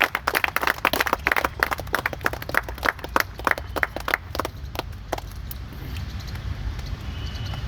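A small group claps outdoors at a cricket ground, sharp claps coming in a quick, uneven rhythm for about five seconds and then trailing off into a few scattered claps over quiet background noise.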